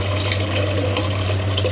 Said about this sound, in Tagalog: Lalagyan natin ng tubig para mag-start na tayong magpakulo ng tubig natin.